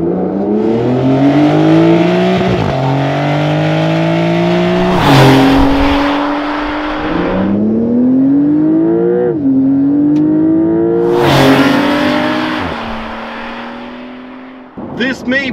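A Porsche 911 (992) Carrera 4 GTS engine revs hard through several rising gear pulls with sharp shifts between them, loud and close, ending as the revs drop away.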